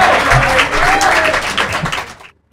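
A poetry-night audience bursts into strong applause for the poet Jugnu, with dense close clapping and a voice over it before the sound cuts off abruptly.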